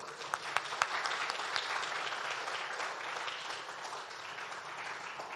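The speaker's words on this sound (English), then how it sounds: "let's give a round of applause again to Shane" Audience at a climate conference session applauds a performer named Shane, a steady wash of clapping with a few sharp claps near the start, moderately distant and even throughout.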